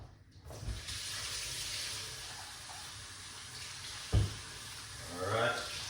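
Fruits are rinsed under a running kitchen tap, a steady hiss of flowing water with a sharp knock partway through and a splashing surge near the end, fairly close.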